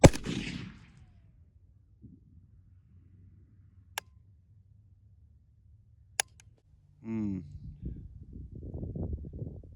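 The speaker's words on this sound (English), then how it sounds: "We're going to see where we're impacting, and then we're going to try and shoot a group." Sharp, isolated rifle shots from a Zastava PAP M77-PS at an outdoor range, one loud crack at the start and two more spaced a couple of seconds apart, followed by someone speaking.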